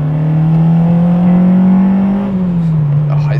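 A restored car with its underside rust repaired drives along, its engine holding a smooth steady drone that rises slightly and then eases off as the revs drop, loud and close from inside the car.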